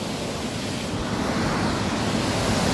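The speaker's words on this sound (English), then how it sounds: "waterfalls all gushing down into the river below" Waterfalls gushing down into the river below, a loud continuous broadband rush of falling water with steady intensity and no voices.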